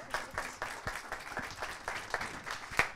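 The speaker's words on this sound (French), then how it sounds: "Oh oui, ils s'applaudissent, oui, allez-y." An audience at a French corporate morning event applauds with scattered, moderately distant claps, uneven and thin rather than a full ovation.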